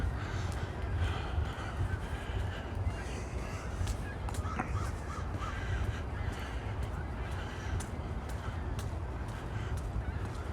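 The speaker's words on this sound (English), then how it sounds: "Bird sounds fading because we're further from where the conglomeration was back there on the ice and water" Crows caw and geese honk around a misty lake with ice and open water, the calls scattered and somewhat distant over a steady background hiss.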